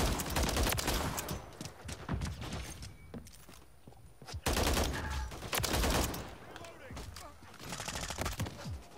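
Gunfire in Call of Duty MW3 on the map Rust: bursts of rapid automatic shots and single loud blasts in clustered volleys with brief lulls, while a player talks over the game.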